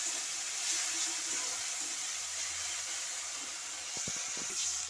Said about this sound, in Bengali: জল দিয়ে দিয়েছি পরিমাণ মতন মাছটা সেদ্ধ হওয়ার জন্য